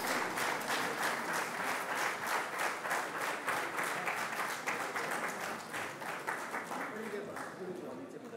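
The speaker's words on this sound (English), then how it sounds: "I think we should give a big round of applause to all the award winners." A large audience at the ICAR foundation day and award ceremony applauds the award winners with sustained, dense clapping that holds steady for several seconds and fades slightly at the end.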